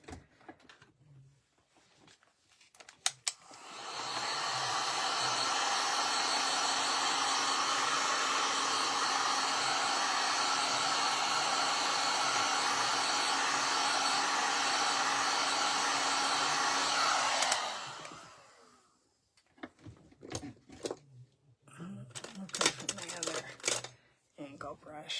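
A hair dryer dries paint on a hand-painted watering can, a loud steady blowing roar for about fourteen seconds, followed by quieter handling clicks and rustles.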